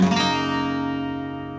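A single acoustic guitar chord is strummed with open strings ringing, bright at first, then sustaining and slowly fading.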